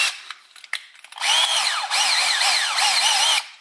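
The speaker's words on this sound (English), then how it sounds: "you just grab a drill and then, you know, a ridiculously sized drill bit and just drill your way through that casing" Power drill fitted with an oversized bit boring through the plastic casing of a TI-82 graphing calculator, a few light clicks and handling taps first, then loud, close grinding whine in several surging passes with brief pauses.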